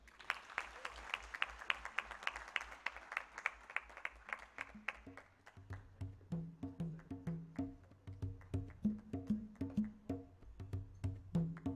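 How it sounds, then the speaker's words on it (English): Audience applause at a tourism expo begins as dense, even clapping across the hall, then shifts into a steady rhythmic beat with music underneath, fairly soft and continuous throughout. "Another round of applause, ladies and gentlemen, for Elsie Atafwa."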